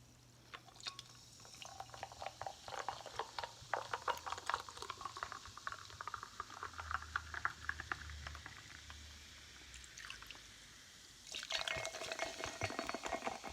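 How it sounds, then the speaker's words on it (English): Cactus Cooler soda pop is poured into a glass and fizzes with a soft, close crackle of bubbles. The pour comes in quiet bursts and the hiss swells again near the end. "I like to pour it in different glasses just for sound effect"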